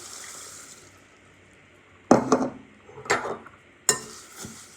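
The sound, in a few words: pouring water into a bowl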